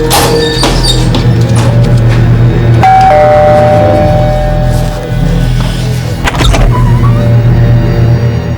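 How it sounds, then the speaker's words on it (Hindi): A doorbell at a home rings once, a ringing chime that fades over about two seconds, heard under a steady rumble of nearby street traffic and passing cars. "चलो इसी बहाने कम से कम प्रीति जी का घंटी बजाने के लिए मिलेगा"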